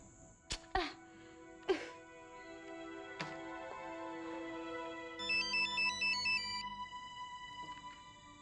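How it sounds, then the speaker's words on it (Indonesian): A phone ringtone plays through an unanswered call in a TV drama scene, a repeating electronic melody that stays faint and steady, preceded by a few sharp knocks and clatters. "Duh, angkat dong, Ruth, teleponnya."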